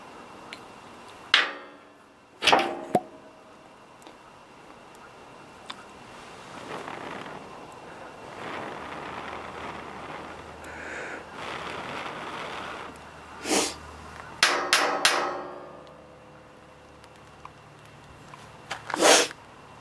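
A fire piston being struck to ignite cotton: a few sharp, isolated slaps and thumps spaced across a mostly quiet stretch, with a cluster of quick impacts near the middle-late part and one more at the end.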